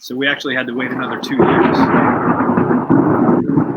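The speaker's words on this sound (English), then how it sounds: "Sorry about the thunder, man." Thunder rolling outdoors in Central Laguna, a loud broad rumble surging up midway and continuing steadily as someone talks over it.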